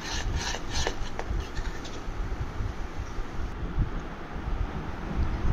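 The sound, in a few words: stirring barley porridge with ghee in a pan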